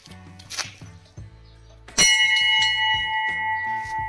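A struck stone at the Mahakali Mataji temple in Sabli, Idar, gives a bright metallic bell-like ring; soft taps come first, then one strong strike leaves a clear tone hanging and slowly fading, with lighter knocks after.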